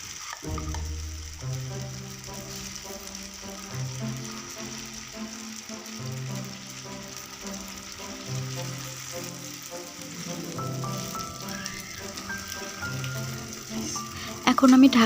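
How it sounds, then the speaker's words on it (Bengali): Thin batter fries in oil in a wok, a soft sizzle lying low beneath louder tonal background music throughout. "কড়াই তেল দিয়ে দিয়েছি, এখন গোলাটা আমি দিয়ে দিচ্ছি।"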